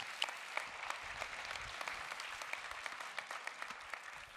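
Church congregation applauding the newly baptized: sustained, even clapping from many hands, soft and somewhat distant throughout, with no voices over it.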